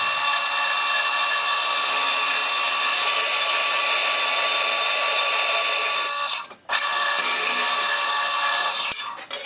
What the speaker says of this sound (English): I'm going to drill these holes out quick